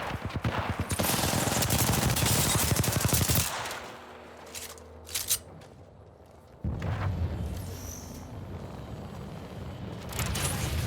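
Gunfire rattles in a video game shootout, rapid machine-gun bursts loud for about three seconds, then a quieter gap with a few isolated shots before another sustained volley resumes.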